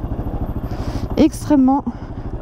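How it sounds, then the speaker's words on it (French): Yamaha XT 600 motorcycle engine with a coarse, tractor-like chugging, pulsing steadily throughout beneath someone speaking close by. "rouler avec une moto qui fait un bruit de tracteur"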